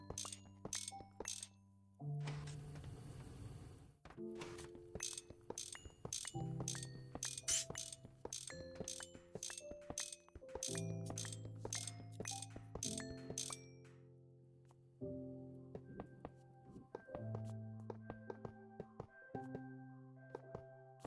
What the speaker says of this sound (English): The downsides of an HV mana steel wrench, it's too fast for its own good sometimes.